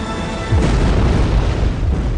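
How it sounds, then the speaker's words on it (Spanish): A deep, rumbling boom swells in and rolls on heavily, like a large underwater torpedo explosion aboard a submarine heard from a distance, with no voices. "Se produjeron dos explosiones de tal magnitud que se registraron en Alaska"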